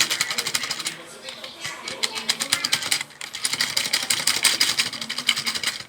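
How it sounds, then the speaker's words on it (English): A gumball vending machine runs with a steady, busy mechanical whirr and rapid clicking pulses, close and fairly loud, with a short lull midway before the rattling resumes. "Sometimes my vending machine is stuck."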